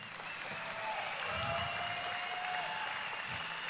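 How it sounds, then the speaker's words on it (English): An audience at Flatout Fargo applauds for VFW Post 762, a soft, steady patter of clapping from a distance with a faint tonal hum beneath it. "Ladies and gentlemen, VFW Post 762, give them a big round of applause."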